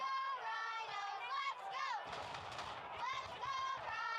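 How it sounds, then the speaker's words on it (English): A football stadium crowd in Louisville chants in sustained, loud massed voices that rise and fall throughout. "Crowd getting a chant going."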